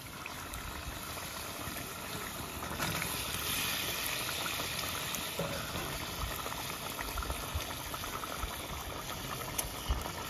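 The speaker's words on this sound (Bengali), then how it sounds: "ঝোলে জাল উঠে গেছে" Fish curry gravy for a fish kalia bubbles at a steady boil in a pot, a faint, continuous burbling hiss lasting about ten seconds, with no one talking.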